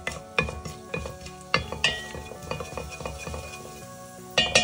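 Cumin seeds dropped into hot oil in a pan while making white chana and dalia khichdi, with light sizzling under clinks and scrapes of a metal spoon stirring against the pan.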